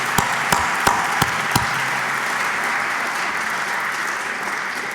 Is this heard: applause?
yes